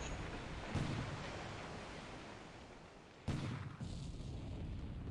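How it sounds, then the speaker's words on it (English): A ship's deck gun fires in the naval video game War in the Pacific – Admiral Edition: two sharp booming reports a few seconds apart, each rising out of a dense, steady noise bed, with no voices. "now we're also hitting with some deck gun action as well"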